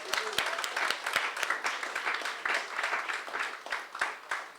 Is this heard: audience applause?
yes